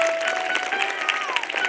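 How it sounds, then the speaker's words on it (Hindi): An audience at a Ram Katha religious discourse claps in a dense, even wash of applause lasting a couple of seconds, with a voice or sustained tone faintly present underneath. "बात अच्छी लगी तो ताली बजाइए।"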